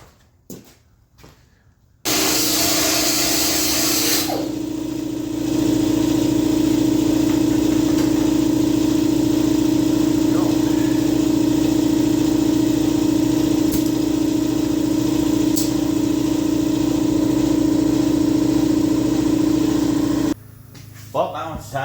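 A cut-off wheel grinder whines loud and steady for about eighteen seconds while slicing out old floor metal on a Corvette, with brief handling noises before and after the run.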